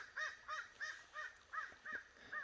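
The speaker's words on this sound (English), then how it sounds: "That crow's laughing at me." A crow caws seven times in an even, evenly spaced series of harsh, faint calls, heard from a distance over quiet background with no talking.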